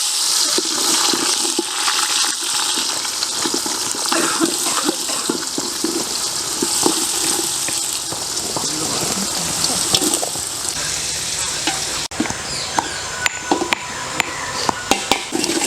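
Onions fry in oil in a pot with bay leaf and cinnamon during village-style cooking: a continuous loud sizzle with scraping stirs and light clinks of a utensil against metal.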